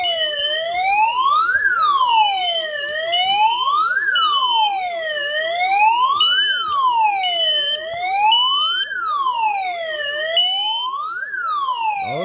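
An alarm siren set off by a smoke detector wails loudly and continuously, rising and falling in repeated sweeps layered over a faster warbling tone, with no pauses.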